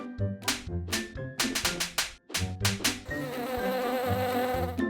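A bee buzzes in a children's bedtime story cartoon, heard as a series of short, loud buzzing bursts followed by a sustained drone near the end.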